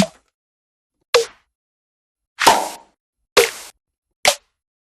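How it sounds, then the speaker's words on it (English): Five separate snare drum samples played back in Logic, each a sharp, crisp hit with a short decay and clear silence between strikes. "So let's listen to these snares."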